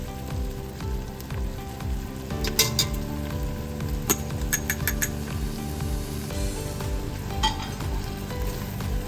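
Flour stirred into a sizzling pan of butter or fat for cheesy chicken spaghetti, with a steady close frying hiss under a rhythmic scraping spoon and a few metallic clinks against the pan.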